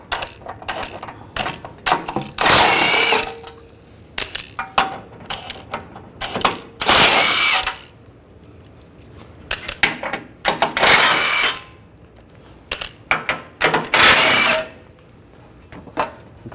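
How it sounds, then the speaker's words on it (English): Ratchet with a 16mm socket backing out bolts under a 2008-2012 Jeep Liberty 3.7L V6, close and loud, in bursts of rapid clicking separated by short pauses and smaller knocks, with no talking. "I'm using a 16mm socket and then taking these bolts out."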